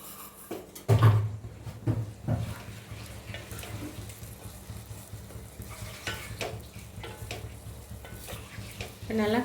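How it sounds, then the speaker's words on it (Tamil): Tomatoes sautéing in a pan for a chapati tomato chutney give a steady, close sizzle, broken by a few louder scrapes and clatters of stirring. No one speaks. "நல்லா வணக்கி விடுவோம். தக்காளி நல்லா வேகணும்."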